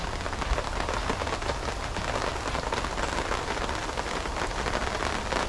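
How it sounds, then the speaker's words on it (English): Steady, dense patter of rain falling on an awning outside an open workshop, continuous and close, with no voices. "even though it's raining out."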